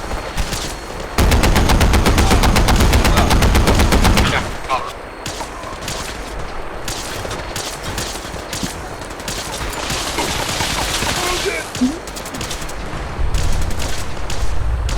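Video game gunfire in Fallout 4, a loud rapid automatic burst followed by scattered shots and sustained crackling fire, with another heavy burst near the end, close and dense.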